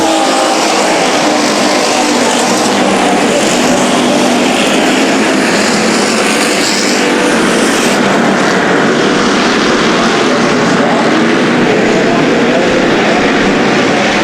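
Hobby stock race cars restart at Bakersfield Speedway, a loud, dense, continuous roar of many engines filling the track without a break.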